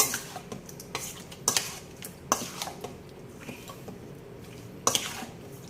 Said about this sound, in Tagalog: At haluin natin